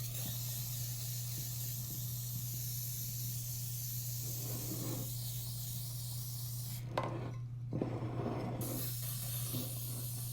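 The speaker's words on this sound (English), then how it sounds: "You're going to want to spray your pan with the vegetable oil spray." Vegetable oil cooking spray hissing onto a baking pan, a steady close spray with short breaks and a brief louder burst near the end, over a low electrical hum.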